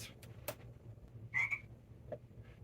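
A human voice imitates a frog, giving a few short, scattered croaking calls that sound faint and somewhat distant against a quiet background.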